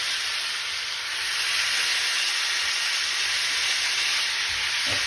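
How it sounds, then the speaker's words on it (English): Venison heart steak frying in butter in a hot skillet, a steady loud sizzle and hiss that fills the whole stretch without pause, with a brief soft knock near the end. "You want to hear that frying noise."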